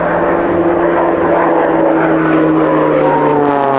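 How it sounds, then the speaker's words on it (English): A Pilatus PC-7 turboprop trainer with a Pratt & Whitney turbine flies aerobatics at an air display, its loud propeller drone sweeping and shifting pitch as it passes close overhead. "And showing you the maneuverability of the PC-7 training aircraft."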